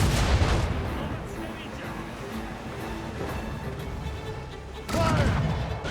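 Ship cannons fire during an Assassin's Creed Rogue naval battle, with heavy booming blasts rising over the rumble of the battle and one strong volley near the start and another near the end.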